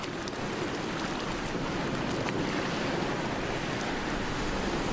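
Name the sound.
ocean waves washing over a sandy beach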